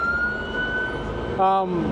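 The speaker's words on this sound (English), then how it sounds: "There's them sirens over there." A distant wailing siren rises and falls over low traffic rumble in Queensland, with a brief burst of another siren tone near the end.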